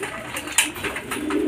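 Pigeons cooing close by, a few short soft coos in quick succession, with a brief flutter or knock partway through.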